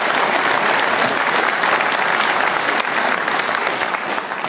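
Sustained, loud audience applause fills a Conservative Party leadership hustings hall, dense steady clapping throughout that fades slightly at the end.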